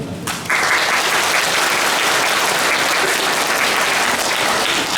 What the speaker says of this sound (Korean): 한 번더 격려의 박수